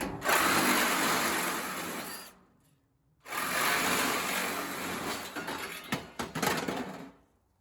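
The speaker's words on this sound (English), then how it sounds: "I find the reciprocating saw is way faster and easier." A reciprocating saw chatters through the metal frame of an IBC tote in two loud bursts separated by a short pause, the second cut ending in uneven rattling strokes.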